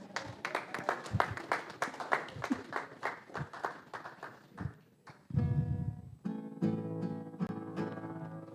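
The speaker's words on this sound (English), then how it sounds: "Give your boy a round of applause for that" A church audience gives a round of applause for a songwriter, with distinct rhythmic claps for about five seconds before the applause gives way to sustained tonal music.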